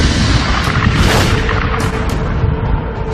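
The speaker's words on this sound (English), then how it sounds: "When a red giant star explodes, a titanic fireball known as a supernova unleashes as much energy" A supernova explosion rendered as a sound effect: a sustained, loud, dense boom with rumbling low end and roaring broadband noise, swelling briefly mid-way and holding steady without talk.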